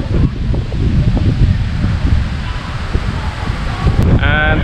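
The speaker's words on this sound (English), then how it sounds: "As you can see, the wind is picking up substantially." Strong, gusty wind before Hurricane Zeta on the Mexican coast roars loudly and continuously against the microphone, and leaves rustle throughout. A brief higher whistle is heard near the end.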